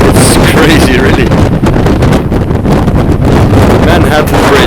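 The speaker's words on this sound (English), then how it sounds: "The wind is so strong that I have to sit on my knees outside on the boat in order to film this." Strong wind roaring over a small passenger boat near the Manhattan Bridge in New York, a loud, steady blustery rush buffeting the microphone throughout.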